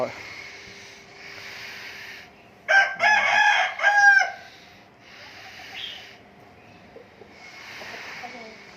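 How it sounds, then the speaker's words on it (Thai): A Sam Iao fighting rooster crows loudly and close by, a single long cock-a-doodle-doo rising out of a steady background hum, with quieter ambient noise before and after. "ไก่สามเอียว"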